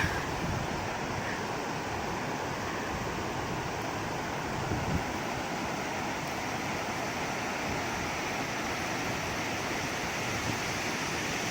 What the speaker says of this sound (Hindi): एक और खूबसूरत